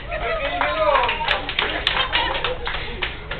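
Applause for a team at a fun sports contest, scattered clapping from a crowd heard under a loud voice speaking over it.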